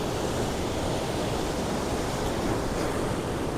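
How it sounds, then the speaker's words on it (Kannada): Sea waves break against rocks on a beach as a dense, roaring wash of surf that stays loud and constant throughout, with wind noise and no talk. "ಕಲ್ ಮೇಲೆ ಹೆಂಗೆ ಬಡಿತ ಕಣೆ ಅಲೆ"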